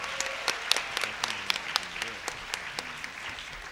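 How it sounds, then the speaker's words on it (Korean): Scattered, fairly faint applause from a small audience at a 2015 middle school debate contest final, with individual claps standing out irregularly over a soft murmur. "학생들에게 박수 한번 다시 크게 부탁드리겠습니다."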